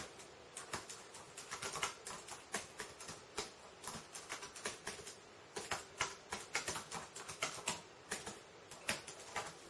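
Slow, uneven keystrokes tapped out one at a time on a computer keyboard using a single index finger, the clicks close and fairly quiet, with no talking.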